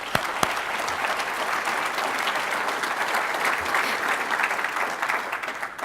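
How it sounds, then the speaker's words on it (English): A big round of applause at an awards event honoring Houston Food Bank volunteers, a loud, continuous clapping from a crowd that stays full and even throughout, with a couple of sharper claps standing out near the start. "Let's give all of these guys a big round of applause."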